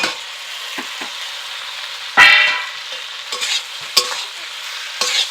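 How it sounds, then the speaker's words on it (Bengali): Fried potatoes and pointed gourd are tipped into a frying pan and stirred, giving sharp metallic spatula scrapes and clanks at intervals over a quiet background sizzle, close and loud. "ভেজে রাখা আলু ও পটলকে দিয়ে দিচ্ছি"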